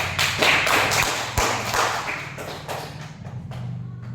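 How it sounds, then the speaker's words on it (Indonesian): A classroom group claps together, giving a run of sharp, uneven hand strikes with occasional heavier thuds, steady and fairly close for several seconds. "Mungkin kita bisa memberikan tepuk tangan dulu."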